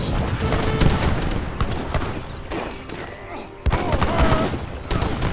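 Organ guns fire in an Age of Empires 3 deathmatch battle, a dense crackle of repeated gunshot volleys with booms and battle clatter, layered throughout at moderate loudness.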